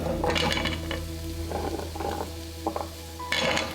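Pumpkin pieces tumbling into a soup pot, a close cluster of clinks, scrapes and soft thuds from utensil against metal, with a faint sizzle and a low steady hum underneath, no talking.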